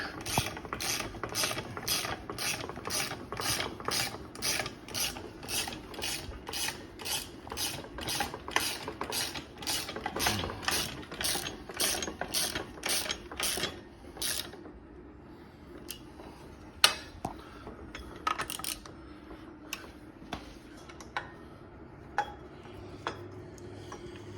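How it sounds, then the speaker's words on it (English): Ratchet tightening a crank spindle bolt on a Schwinn Mean Street bicycle: a fast, even run of sharp clicks, then slower, scattered single clicks as the bolt snugs up, heard close with no talk. "I'm gonna tighten the other side so we make sure the spindle's centered."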